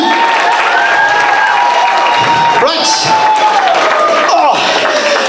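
Audience applause and cheering fill the hall at a school transition year variety show, a steady dense clapping wash throughout with a brief spoken word from the stage over it.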